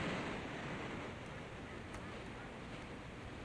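Water rushing over a dam in the Trainz Plus railway simulator on the Elsecar Heritage Railway, a steady broadband wash of surf-like noise that holds even and fairly faint throughout, with no voices.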